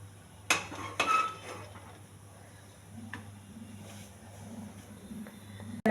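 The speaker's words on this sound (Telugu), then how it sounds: "ముందుగా స్టవ్ వెలిగించి కుక్కర్ పెట్టుకోవాలి" A metal pressure cooker set down on a lit kitchen stove, giving a few faint metallic clanks and clinks near the start and a sharp knock at the end, with quiet kitchen hum between.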